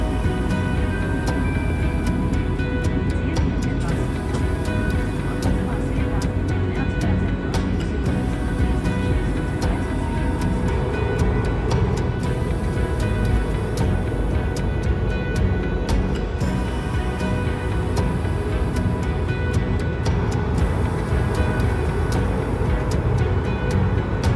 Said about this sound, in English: Taking off out of Riga International Airport, we begin our 2-hour 40-minute flight over to Aberdeen in Scotland.